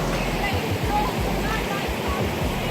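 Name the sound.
waterfall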